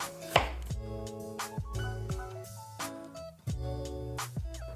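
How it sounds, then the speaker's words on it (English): Onions are chopped on a board with a knife: a series of sharp, close, distinct chopping knocks in an irregular rhythm, each with a short resonant ring, with no talk. "And then I like to chop it across the grain. Next, onions."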